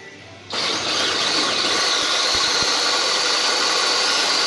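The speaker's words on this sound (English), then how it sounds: "Just grind the grain here." A grain mill grinds malt for a breakfast stout homebrew, starting abruptly after a brief quiet moment and then running as a loud, steady whirring grind with a few faint knocks.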